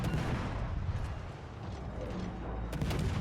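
Destroyer guns fire in World of Warships Legends, a deep booming shot followed by mechanical rumble and another heavy blast near the end, fairly faint.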